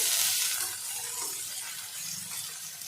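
Chopped onions sizzle and crackle steadily in hot white oil with whole cumin seeds, a close, continuous frying hiss with faint clinks of a spoon stirring the pan.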